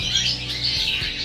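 Lovebirds at a bird stock sale give off a short burst of harsh, shrill squawks, loud and close, over a low steady background hum.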